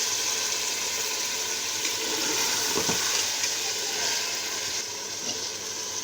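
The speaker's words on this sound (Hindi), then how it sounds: "दस मिनट के लिए हम दोबारा इसकी भुनाई कर लेंगे ताकि ये अच्छे से बिल्कुल फ्राई हो जाए।" Beef and spinach are dry-fried in an opened pressure cooker pot, making a loud, dense, continuous sizzle with a brief stirring scrape midway.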